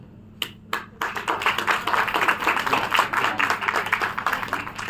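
Audience applause at an Urdu writing and speech competition prize ceremony starts with a few scattered claps, then grows into steady, fairly loud clapping from a modest crowd that continues to the end.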